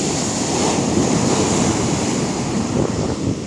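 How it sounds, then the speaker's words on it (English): Ocean waves breaking on Dam Neck Beach on a naval base, a loud continuous surf roar with wind buffeting the microphone and no talking. "And here is the beautiful, beautiful beach."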